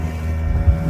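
Single-engine fishing boat motor drones steadily on the water, a low rumbling hum with wind noise over the microphone, continuous and close through the short moment.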